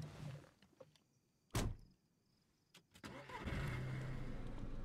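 Inside a game, a car's door clunks, then its engine cranks and catches, settling into a steady low idle rumble; fairly quiet overall.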